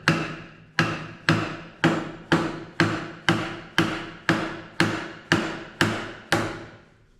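Hammer driving a taper key onto a part during a steam engine restoration: about a dozen sharp metallic blows at a steady, even pace, close and loud, with a ringing decay after each strike.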